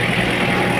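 A 3-litre 1KZ-TE diesel in a second-generation Toyota Hilux Surf runs steadily after an injection repair, a close, loud, even idle with a low rumble and no speech over it.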